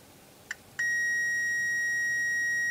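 A short electronic chirp from a multimeter continuity test, then a steady high-pitched continuous beep that holds unbroken to the end, close and clear.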